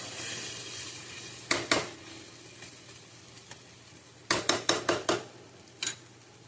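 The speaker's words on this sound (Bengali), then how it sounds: "আর একটুখানি হালকা কষে নেবো।" Tomato masala frying in a pan with a low steady sizzle, broken by sharp metallic spoon clanks against the pan, first a pair, then a quick run of five and a last single knock.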